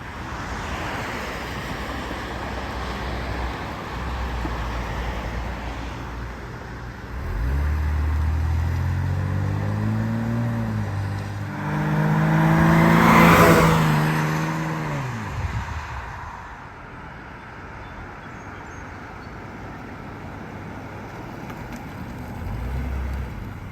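A 1976 Jaguar XJ6L with a restored 3.6-litre AJ6 engine approaches and sweeps past outdoors, its engine note rising, peaking loud as it passes close, then fading away into quiet ambient roadside noise.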